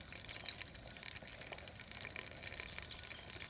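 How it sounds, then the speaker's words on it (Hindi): Finely chopped onions fry in hot oil for a Punjabi kadhi pakora, giving a soft, steady sizzle with light crackles, quiet and continuous throughout. "प्याज को सुनहरा होने तक पकाएंगे।"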